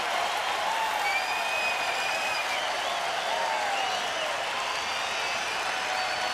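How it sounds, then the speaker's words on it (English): Crowd at a baseball game cheering in a steady, loud roar that rises and swells without letup, with faint whistles cutting through. "Crowd is into it."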